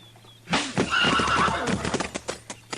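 A horse at a crowded hitch rack in a western town lets out a loud, close whinny, followed by a few clip-clop hoof steps.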